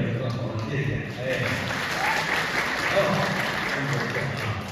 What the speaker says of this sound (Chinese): 谢谢朋友们的掌声鼓励，当然掌声在热烈的更好了